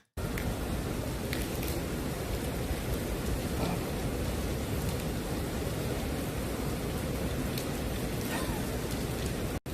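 Steady rain falls outdoors as a continuous dense hiss with faint scattered drops, persisting evenly and at moderate distance with no letup.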